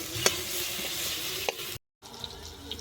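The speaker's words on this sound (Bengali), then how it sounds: "আদা আর পেঁয়াজটা একটু বেশ ভালো করে আবারও ভেজে নেব" Grated ginger and onion fry in a pan with a soft, steady sizzle, punctuated by a few sharp utensil scrapes and clicks, close but fairly quiet, broken by a brief silence.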